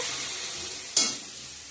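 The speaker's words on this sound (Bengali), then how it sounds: "এখন সবজিগুলো দিয়ে ভেজে নিব একটু ভালো করে" Vegetables and tomato fry in a pan for a chickpea ghugni curry, giving a soft steady sizzle, then one sharp scrape of a stirring spoon partway through, with no voices.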